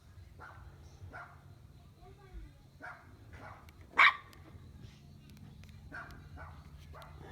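A small dog named Chico gives a few high-pitched yelping barks outdoors at dusk, one sharp loud yelp standing out, with people talking throughout.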